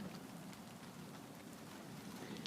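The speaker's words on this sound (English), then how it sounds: "We're starting to get rain." Light rain begins to fall outdoors, a faint steady patter and hiss of drops throughout with no voices.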